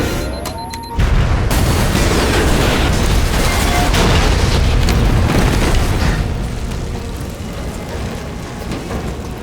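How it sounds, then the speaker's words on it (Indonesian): A massive, roaring blast erupts suddenly and keeps rumbling loudly for several seconds, a dense wall of crackling debris slowly fading. "Dr. Neville kemudian menekan detonator untuk meledakkan bom yang sudah ia pasang sebagai pertahanan rumahnya"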